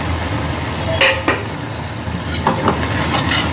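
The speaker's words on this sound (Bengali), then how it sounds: "এটাকে ভালো করে এটাকে মিশিয়ে নিচ্ছি, আরও শুকিয়ে যাবে" Egg tarka stirred in a pan, a steady close sizzle broken by a few sharp scraping clinks of the spoon against the metal.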